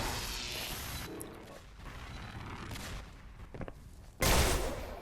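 Gunfire and weapon impacts in a Xonotic duel match, a string of sharp cracks and whooshing blasts of varying loudness, ending in one heavy close burst, with no talk over it.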